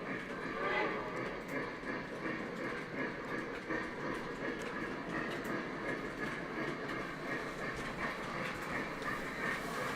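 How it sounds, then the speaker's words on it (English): Model train on a home layout, a T1 locomotive pulling New York Central passenger cars, rolling steadily with a continuous rumbling clatter and faint whistle-like tones throughout, close and even in level. "T1 pulling the New York Central passenger cars this week"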